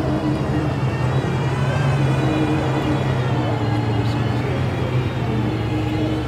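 An Aston Martin Valkyrie supercar at a paddock and hillclimb event, its engine a steady loud droning rumble with strong low harmonics, held at a constant level throughout, with crowd chatter faintly mixed in.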